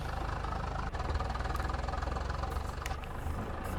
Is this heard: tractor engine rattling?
yes